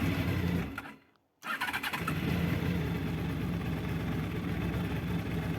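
A Honda VFR 750 motorcycle engine stops briefly, then restarts and settles into a steady, slightly uneven idle after warming up, heard close and loud with no talking.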